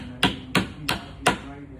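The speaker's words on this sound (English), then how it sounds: "give it a tap with the hammer" Four sharp hammer taps, evenly spaced about a third of a second apart, close and fairly loud with a short ring after each, driving spikes into edging on a media wall base unit.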